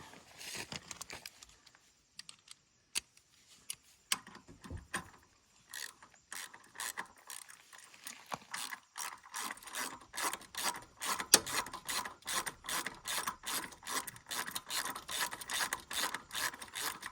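A ratchet wrench tightens a bolt on the skid plate of a Yamaha TW200 motorcycle. It makes a rapid, repeated clicking that starts sparse and becomes a steady close rhythm, with no talking.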